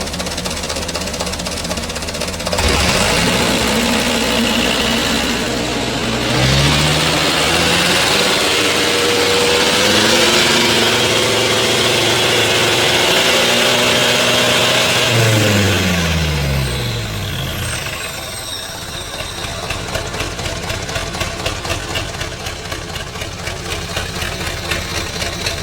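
A 2013 Mitsubishi Canter HD125 truck engine in as-is condition idles with a rough knock, then revs up, holds a loud high pitch for several seconds and falls back to a lumpy idle, heard close with no talking.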